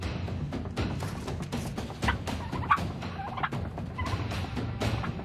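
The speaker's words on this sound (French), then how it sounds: "Quelques dindes encore vivantes." Live turkeys gobble repeatedly inside a farm outbuilding, several short gobbling bursts overlapping against a steady, noisy background, moderately distant and fairly faint.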